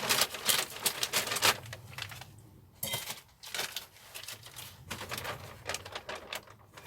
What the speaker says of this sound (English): I'll just cut top off this bag and we can have a quick look